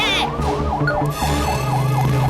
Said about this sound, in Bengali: কখনো অ্যাম্বুলেন্স, কখনো ফায়ার ব্রিগেড, কখনো পুলিশ ভ্যানের সাইরেন কেন বাজছে?